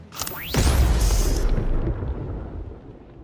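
A bomb blast in a Predator versus Wolverine battle: a rising whistle followed by a heavy, booming explosion with a deep rumble that rolls on and slowly fades, loud and close with no voices.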